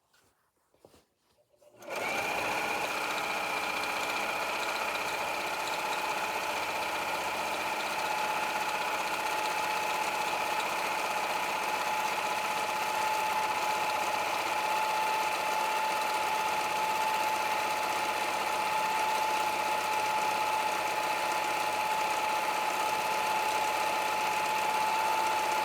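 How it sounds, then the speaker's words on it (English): A sewing machine runs steadily in a long unbroken straight stitch along the edge of an apron, a close, even motor whir with a thin high whine held throughout after a brief quiet start. "Now we're going to go normal straight stitching."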